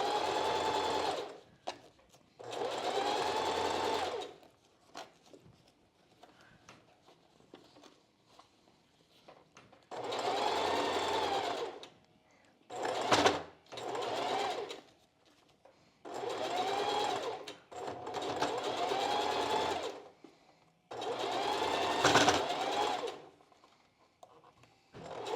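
A sewing machine stitches down the lower elastic on a strapless bra in several separate bursts of rapid whirring, with quiet pauses between runs.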